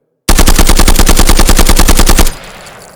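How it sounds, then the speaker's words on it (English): A long, rapid burst of full-auto gunfire, about two seconds of loud, evenly spaced shots fired close by, ending abruptly and leaving only a faint tail behind. "So as you can see, when you're shooting full auto"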